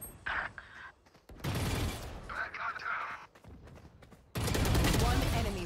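Gunfire in a shooting video game rattles out in dense automatic bursts, loud and close, broken by short gaps and ending in a sustained volley, with game voices heard in between.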